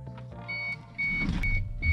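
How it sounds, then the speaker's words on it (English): Electric fuel pump on a 5.0 Mustang engine swapped into a Bronco, running while the fuel system is purged before hookup to the regulator; a steady whine and buzz with faint tonal beeping, strained and uneven, loudening after the first second. "Fuel pump does not sound happy."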